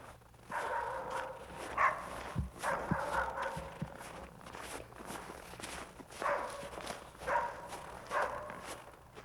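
A dog barks repeatedly in short bursts during a Siberian expedition searching for tigers, mid-distance and fairly faint, with footsteps crunching along beneath.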